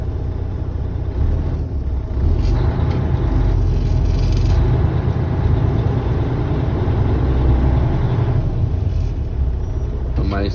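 A truck engine rumbles steadily at low speed, about 5 mph, during a CDL Class A service brake check, with a deep constant drone from inside the cab and a few faint clicks and rattles.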